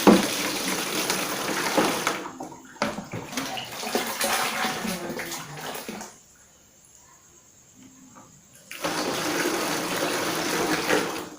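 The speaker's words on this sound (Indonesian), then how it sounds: "Jangan lupa sambil diaduk-aduk." A liquid amino acid mixture for Muscovy ducks is stirred in a container, giving continuous watery sloshing and swirling that drops away for a few seconds in the middle before resuming at a steady level.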